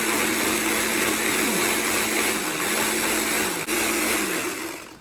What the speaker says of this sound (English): now turn off the blender